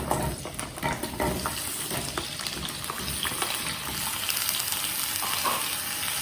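Chopped potatoes tipped into a hot pan for a no-onion, no-garlic gravy dish, followed by a steady, close sizzle with scraping stirs throughout and no talking.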